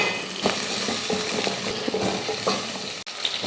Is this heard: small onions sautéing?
yes